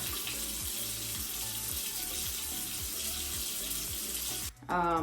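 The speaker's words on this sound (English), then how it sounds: "now we rinse" Tap water runs steadily into a sink while a face is rinsed after polishing, a loud continuous splashing rush close by that cuts off abruptly near the end, leaving brief trickling.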